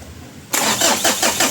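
A Mitsubishi Adventure diesel engine catches after fuel is pumped through by hand, a sudden loud start that settles straight into a rough, pulsing idle close by.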